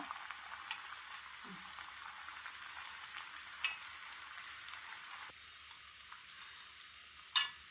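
Soya chunk meal maker vadai balls frying in hot oil, a steady broadband sizzle with small crackling pops throughout, fairly quiet and close, with no voices.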